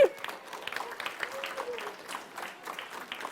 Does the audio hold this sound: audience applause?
yes